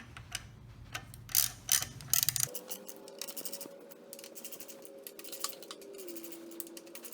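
A hand tool clicks and ratchets as variator bolts are tightened during cam timing adjustment on a Lamborghini Murcielago. Faint, close, irregular clicks and scrapes play over a low background hum.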